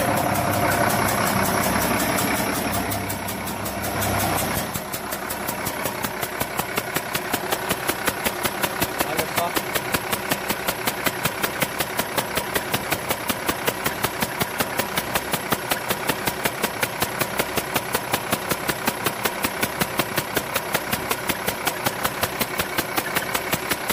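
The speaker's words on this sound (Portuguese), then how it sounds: "Olha o barulho que tá esse motor." A car engine runs steadily up close with a fast, regular ticking knock throughout.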